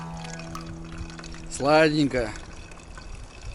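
A drink glugs and gurgles as it is poured at a fishing-trip meal in a taiga camp. The short, bubbling pour rises in pitch as it fills and is heard under nearby conversation.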